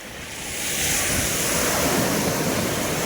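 Sea waves wash onto a beach crowded with fishing boats, a broad roaring surf that swells louder after the first second and stays full, with some wind buffeting the microphone.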